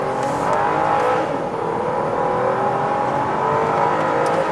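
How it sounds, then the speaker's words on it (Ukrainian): A Volvo XC70 T6 3.0 turbo engine roars steadily and loudly at full throttle, its pitch rising as it accelerates hard, with a constant droning whine throughout. "Педаль в пол, стартуємо, де все, поїхали."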